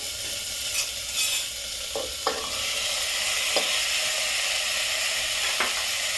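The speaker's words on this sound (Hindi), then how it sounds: "थोड़ा इसे मैं भून लेती हूँ।" Steady soft sizzling of chopped carrots and tomatoes frying in a pan, with occasional scrapes and stirs of a utensil and a brief squeak, fairly quiet and close.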